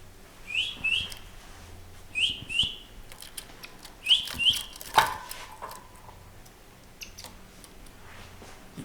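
Two small green and red pet birds kept in a room chirp in short, sharp paired tweets, repeated in bursts at close range amid light ticking and clicking.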